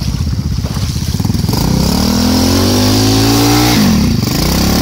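ATV 2x2 quad engine revving hard and steadily close up, pitch climbing and holding high before dropping and surging again, loud and continuous with no talk over it.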